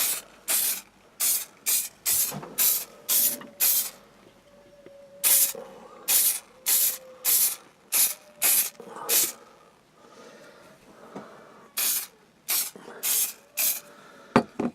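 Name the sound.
spraying varnish from spray can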